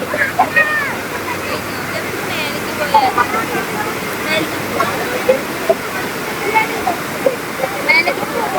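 A waterfall rushes in a steady broadband roar at a spot where children play, with scattered voices and shouts rising briefly above the water.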